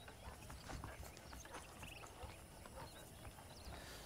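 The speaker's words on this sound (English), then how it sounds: "The horses are saddled up over here." Rhythmic clip-clop of horse hooves in Red Dead Redemption at a steady walking pace, moderately near, over a busy outdoor ambience.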